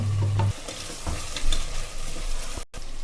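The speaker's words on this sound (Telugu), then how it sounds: "ఆనియన్స్, పచ్చిమిర్చి, తర్వాత మనం టమాటా పండ్లు ఒక 5 మినిట్స్ బాగా డీప్ ఫ్రై అయిన తర్వాత" Onions, green chillies and tomatoes frying in oil in a pan for a restaurant-style mutton curry, giving a steady close sizzle broken by a few stirring scrapes, with no talking.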